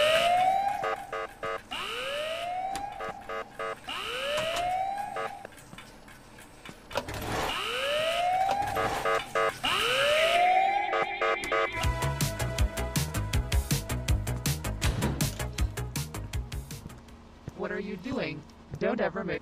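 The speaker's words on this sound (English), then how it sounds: "Sound the alarm!" Alarm siren in the Ice Scream horror video game, with repeated rising wails in a steady rhythm, then giving way to busy game music and effects. Loud and close.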